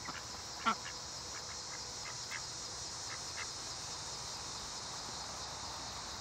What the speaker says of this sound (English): Where y'all going, ducks? You got somewhere to go?